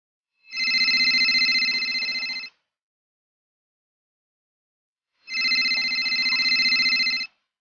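A telephone rings twice, each ring about two seconds of electronic trilling, separated by a long silent gap. The rings are clear and close, with no voices.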